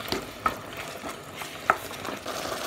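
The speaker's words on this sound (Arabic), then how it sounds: "بحركهم شوي مع بعض." Spices, black pepper, salt and other ingredients are stirred together in a cooking pot for spaghetti and meatballs, giving soft scraping strokes with a light sizzle underneath and two distinct metallic clinks of the spoon, close up and without talk.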